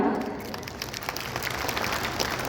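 Steady audience applause fills a hall at a dairy conference, many hands clapping together in a dense, even patter throughout.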